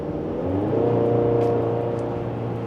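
A 2026 Chevy Colorado Z71 mid-size pickup pulls away under hard throttle on the road, its engine note rising steadily as it accelerates, heard from inside the cabin with a constant road and wind hum.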